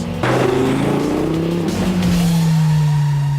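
Subaru Impreza STi Cosworth car driving hard, engine rising through the revs in a loud, close, continuous roar with a sharp upshift partway through and no talk.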